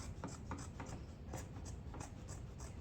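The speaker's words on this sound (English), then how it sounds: "we're just going to cut right along that line again. Using these scissors." Close, rhythmic snipping and rasping of scissors cutting through pillow fabric along a marked line, repeated cuts about every quarter second, quiet and steady.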